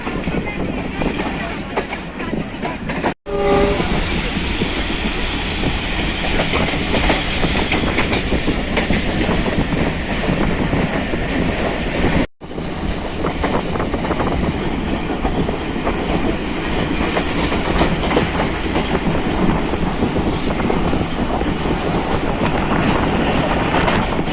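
The Jaffar Express rolls slowly through Chaklala railway station, a loud continuous rumble of carriages with rhythmic wheel clatter and wind buffeting the microphone, recorded from on board with two brief cuts.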